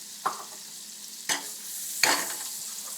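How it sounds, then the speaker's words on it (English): Onions and peppers for a salmon omelet sizzle in a pan, a steady soft frying hiss broken by three sharp bursts as ingredients drop in and are stirred, with no talking. "We're going to add some onions. We're going to add some peppers."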